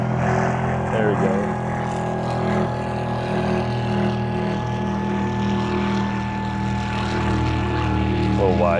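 Steady loud motor drone of a DJI FPV drone flying near a jet speedboat, a sustained whine with a low hum running under it the whole time.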